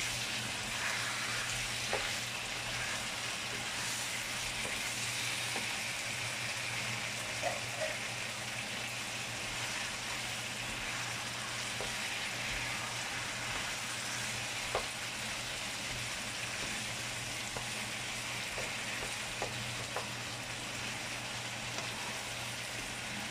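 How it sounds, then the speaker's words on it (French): Potatoes, meat and tomato paste fry in a pot over high heat with a dense, steady sizzle that runs throughout, close and even, broken by occasional faint clicks of stirring. "Ok, donc tout va frire ici."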